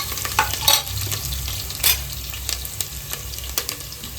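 Mutton sambar masala roasting in a hot pan while being stirred, a steady sizzle with scraping stirs and occasional louder clacks of the spoon, close and continuous with no talk.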